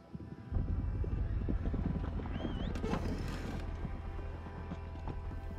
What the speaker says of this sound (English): She heard them horses